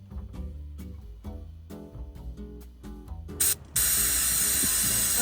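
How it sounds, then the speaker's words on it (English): Brake cleaner sprayed onto the gearbox fill plug of a Citroën 2CV, a loud steady aerosol hiss lasting a couple of seconds after a brief first burst, following some clanking of tools. "just clean the fill plug up there with a little bit of brake cleaner"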